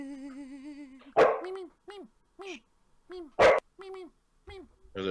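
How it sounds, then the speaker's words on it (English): A dog on the audio track gives two sharp barks among a series of whining, yelping vocal sounds, fairly close, with sustained tonal whimpers before them. "There's a dog on the track."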